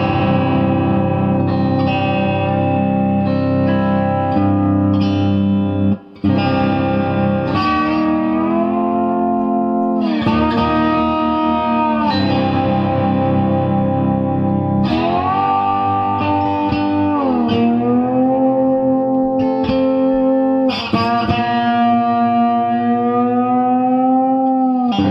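Cozart lap steel guitar tuned to open C plays sustained, ringing chords and slides for about 25 seconds, loud and continuous with heavy echo and reverb, no talking.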